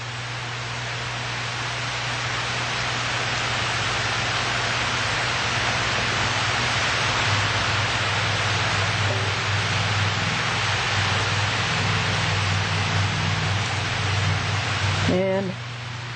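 Steady rain pours outside an open door on a July day, a dense even hiss that fills the whole stretch, loud and close, with a brief low thump near the end.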